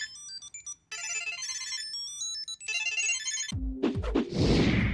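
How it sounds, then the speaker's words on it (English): A Samsung SmartTag Bluetooth tracker chimes a bright, repeating electronic ringtone melody from its tiny speaker in two short bursts. A louder crash-like noise follows at the end. "it starts to make that noise from that tiny little speaker and allows you to really home in on the item"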